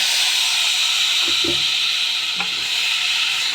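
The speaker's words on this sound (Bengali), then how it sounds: "এবার চালটা কপি আলুর সঙ্গে ভেজে নেব।" Washed rice frying with cauliflower and potato in a pan gives a steady, loud sizzle throughout, with a few soft stirring knocks partway through.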